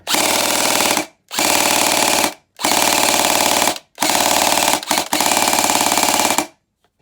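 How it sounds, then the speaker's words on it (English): SLR CQB gel blaster with an LDT gearbox and an 11-volt battery firing full auto in five loud, rapid mechanical bursts, each about a second long, separated by brief silences. "on single fire, she's really nice and snappy, and on full auto,"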